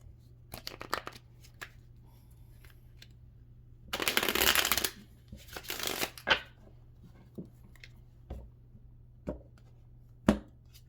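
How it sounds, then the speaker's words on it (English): Playing cards shuffled nearby: scattered crisp clicks, then a loud riffling burst, more riffles and taps, and a few sharp snaps after, no speech. "Let's get one more shuffle."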